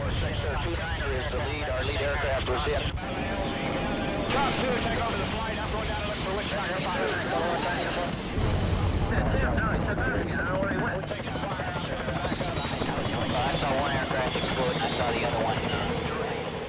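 Military helicopters over Vietnam flying toward a landing zone, a dense continuous rotor drone with rhythmic chopping, loud and near, with voices speaking over it throughout.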